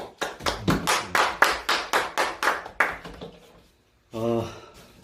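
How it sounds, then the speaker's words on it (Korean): A church congregation claps in a steady, evenly spaced rhythm of about a dozen sharp, loud beats that slow and fade out, followed after a brief pause by someone speaking. "이 박수는 예수님이 이 땅에 오신 그 영광스러운 사명을 완수하셨다라는 승리의 박수입니다."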